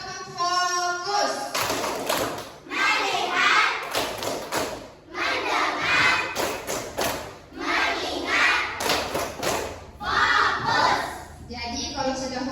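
Children in a classroom clap out a numbered focus-clapping game in bursts of sharp, fairly loud hand claps, with young voices chanting along and an adult calling the count between rounds.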